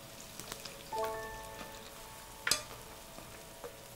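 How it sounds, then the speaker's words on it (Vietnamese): Fried bánh bao buns sizzle in hot oil, a soft continuous crackle with scattered pops and a couple of brief clinks, fairly quiet and with no talking. "Phần bánh được túm lại sẽ dày hơn phần đáy bánh, nên các bạn nhớ chiên nó lâu hơn một chút ha."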